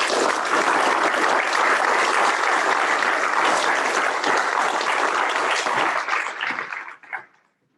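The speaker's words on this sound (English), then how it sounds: "A round of applause for Midshipman Davis" Sustained, dense round of applause from a large audience at a university NROTC spring awards ceremony and change of command, steady and loud before tapering off abruptly at the end.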